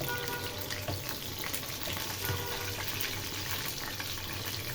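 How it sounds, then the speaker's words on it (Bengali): A batch of fish frying in hot oil in a home kitchen, a steady, dense sizzle that stays fairly quiet and even throughout with no talking. "হয়ে গেল এই ব্যাচটি তেলে দেয়া।"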